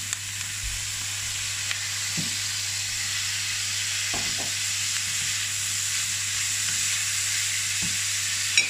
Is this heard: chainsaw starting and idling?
no